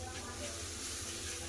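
Spices with chili powder and a splash of water sizzling in hot oil, a steady hiss and crackle throughout under a voice talking.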